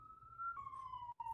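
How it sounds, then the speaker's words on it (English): Ambulance siren passing on a street, faint and distant, a steady wailing tone that shifts slightly downward in pitch as it goes by, alone with no talk. "wait for this ambulance to pass."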